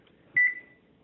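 A kitchen timer being set while baking shrimp gives one short, clear electronic beep, quiet and alone in a still kitchen.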